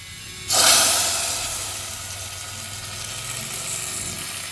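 A tempering for a coconut curry hits hot oil with a sudden loud sizzle that bursts in at once, then settles into a steady hiss that slowly fades.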